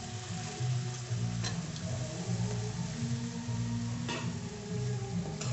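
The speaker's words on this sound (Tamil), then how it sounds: "இந்த ஸ்டேஜில் வந்து கத்திரிக்காயை சேர்த்துக்கலாம்." Eggplant pieces sizzle and fry steadily in hot oil with ginger-garlic paste in a pan, a continuous close crackle with a couple of faint utensil ticks, no talking.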